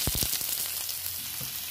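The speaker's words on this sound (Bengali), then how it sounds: "এবার পেঁয়াজটা ভেজে নেব।" Onions sizzle in hot oil in a home kitchen pan, a steady frying hiss with a few sharp crackles near the start, close and fairly loud throughout the short moment.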